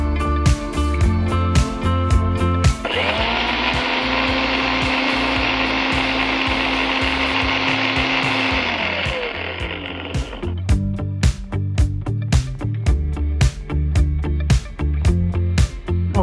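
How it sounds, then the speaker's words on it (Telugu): A mixer grinder whirs loudly for about eight seconds, grinding tomato for idli batter, its steady high motor roar rising abruptly and winding down, set against clattering kitchen sounds and music before and after. "సో ఇప్పుడు మనం దీన్ని గ్రైండ్ చేసేసుకుందాం"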